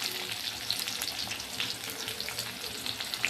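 Onion fries in oil with bay leaf and garlic for a dal-rice khichdi, making a continuous, fairly faint crackling sizzle with dense small pops throughout.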